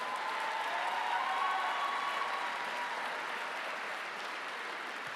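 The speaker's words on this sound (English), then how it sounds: "Let's give them a round of applause." A graduation audience applauds the class of 2022, a continuous wash of clapping heard at a distance in a large hall, even and fairly soft throughout, with no talk over it.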